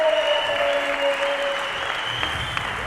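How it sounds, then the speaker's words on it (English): Crowd applause at the Freestyle Trampoline World Championships 2022, a steady wash of clapping filling the arena throughout, with a sustained tonal hum running underneath. "Give it up for Berg back there."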